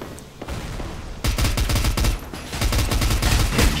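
Loud, dense gunfire from the online shooter F.E.A.R. Online rattles in rapid automatic bursts, building into a near-continuous barrage after a brief quieter opening.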